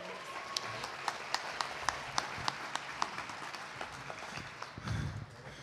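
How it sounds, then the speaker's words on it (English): A small gala crowd claps, with sharp distinct claps in a quick steady rhythm over a softer patter, fading out toward the end. "Would you give him a big round of applause?"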